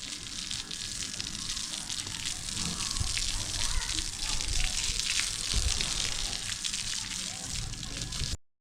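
Water sprayed across a freshly completed concrete roof slab of a new house to cure it, a steady broadband hiss and splatter running unbroken for several seconds with faint background noise.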